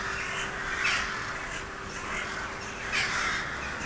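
A large flock of crows caws repeatedly over rooftops in Killarney, Ireland, harsh calls rising in a couple of louder bursts from a steady, dense wash of distant bird noise.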